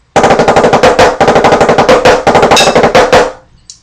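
Three rapid, loud ten-stroke snare drum rolls played back to back in quick bursts, each ending with a short pause before the next, finishing with a final stop.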